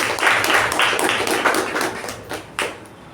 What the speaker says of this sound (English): Let's give Sir another huge round of applause for his achievement.